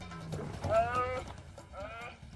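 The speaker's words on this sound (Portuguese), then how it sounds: "O barulho que o orictéropo fez foi tipo de um balido profundo." An aardvark giving deep bleating calls, two drawn-out wavering cries a second apart, fairly close with faint background noise.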